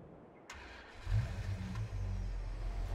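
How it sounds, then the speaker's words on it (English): Pickup truck in the video game Farming Simulator 22 starting up after a click, then settling into a steady low engine rumble that stays constant, with no talking. "I'll go and jump back into our pickup."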